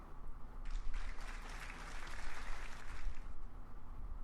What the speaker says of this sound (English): The audience claps again